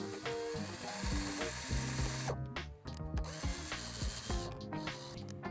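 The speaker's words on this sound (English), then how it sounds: "drill a hole right here" A power drill bores a hole into a scrap-wood 2x4, its motor whirring in bursts with brief pauses and changes in pitch as the bit cuts through the lumber, loud and close.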